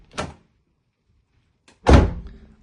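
A 1.5 dCi Nissan Pulsar's car door opens with a light latch click, then shuts with a louder, hollow, tinny thunk about a second and a half later, close up and with no talk.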